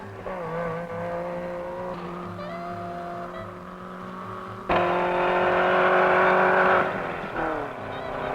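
Fiat 2300 rally car engines on rough roads in the 1963 East African Safari Rally drone and rev steadily, rising to a louder, harsher roar midway before easing off, with a faint tire squeal.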